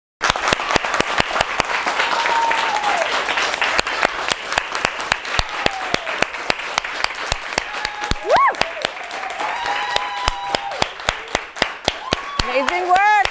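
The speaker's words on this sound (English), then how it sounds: "Is everyone clapping?" An audience claps with sharp, irregular hand claps over a steady wash of applause, while a voice talks over it.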